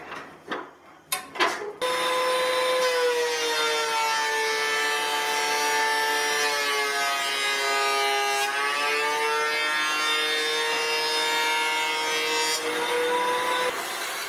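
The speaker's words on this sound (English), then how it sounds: "I'll run it through the planer to make the other side flat and parallel" Thickness planer flattening jointed wooden boards, a loud sustained mechanical whine with strong tonal hum that drops in pitch briefly under load, preceded by a few clunks as a board is fed in.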